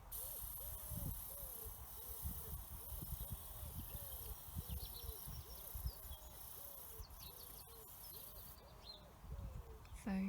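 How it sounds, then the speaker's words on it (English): A brood of robin chicks nesting beside a garden shed gives a steady run of faint, high, repeated calls, heard from a short distance amid quiet outdoor ambience and soft wind rumble. "It's not my water butt, it's actually a little brood of robins"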